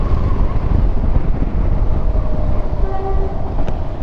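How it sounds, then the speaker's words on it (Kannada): A single train passes in Bangalore with a deep, steady rumble close by and wind buffeting the microphone, while faint tonal horn-like notes show up near the end. "ಓ ಒಂದೇ ಒಂದು ಟ್ರೈನ್ ಹೋಗ್ತಾ ಇದೆ ನೋಡಿ."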